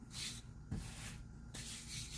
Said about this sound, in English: Got a little spray bottle.